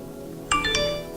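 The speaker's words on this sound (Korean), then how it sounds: "문자가 오네요." A mobile phone sounds a short text-message alert, a quick run of three bright chiming tones over a quiet indoor background.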